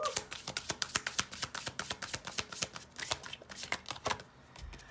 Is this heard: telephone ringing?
no